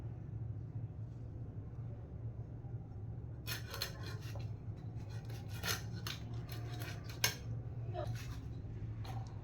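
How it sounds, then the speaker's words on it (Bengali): Whole fish being cut into pieces in a kitchen after scaling, quiet low hum at first, then a few seconds of scraping, rasping knife strokes and small knocks, close and fairly faint, with no talking over them. "এবার মাছটা আমি পিস করে নেব।"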